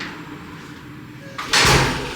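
A villa's front door swings and closes with a sharp, loud thud near the end after a quiet indoor stretch.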